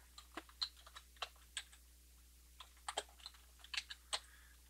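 Soft, irregular keystrokes on a computer keyboard as a router password is entered, quiet close clicks in uneven bursts against a faint hum.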